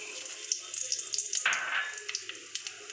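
Nigella seeds hit hot oil already holding a bay leaf and dried chilies while tempering for steamed koi fish, giving a close, crackling sizzle with small pops and a brief surge of spitting partway through.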